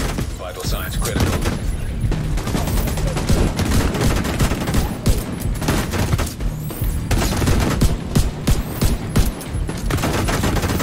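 Dense video-game gunfire, rapid overlapping shots and bursts from several directions, loud and near, with a voice talking over the shooting.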